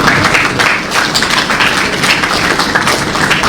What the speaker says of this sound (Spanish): Un aplauso a todos que participaron.